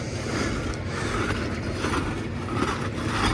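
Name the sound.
backside of a rake scraping over flat roof membrane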